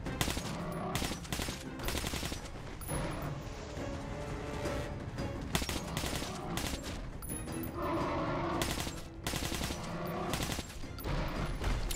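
Sustained automatic gunfire in Metro: Last Light pounds on for seconds at a time in long, loud bursts, broken by short pauses, with no talking.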